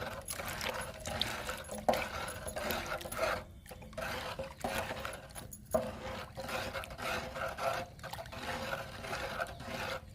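Soaked groundnut cake liquid fertilizer is stirred in a container, giving rhythmic wet swishing and sloshing strokes repeated steadily and close by.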